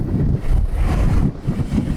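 Strong wind at the shore in Buenos Aires roars and buffets the microphone in low, uneven gusts, with a rushing, broadband noise throughout and no voices.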